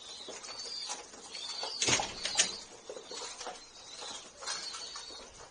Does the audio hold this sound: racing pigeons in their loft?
yes